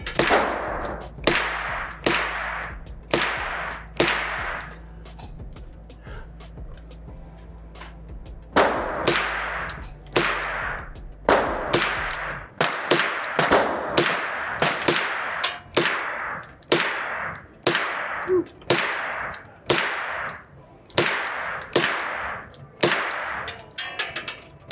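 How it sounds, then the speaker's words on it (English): A 9mm CMMG pistol-caliber carbine fires at a target 15 yards away outdoors, with about twenty loud, sharp shots coming in an uneven, deliberate rhythm, some spaced and some in quick pairs, with a faint ring after each. "I'm shooting out to 15 yards"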